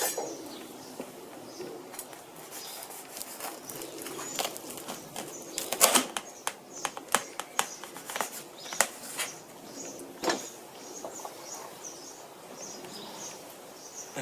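A knife cuts through a grilled Wagyu roast beef sandwich, giving scattered crunchy slices and sharp taps against a board, irregular and close over a quiet outdoor background.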